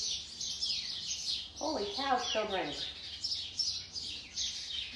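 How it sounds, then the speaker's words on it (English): Fledgling birds chirp in a steady run of high, bright calls, with a person exclaiming briefly in the middle. "those birds are making me nervous."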